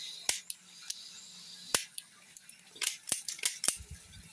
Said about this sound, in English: She's shooting this time.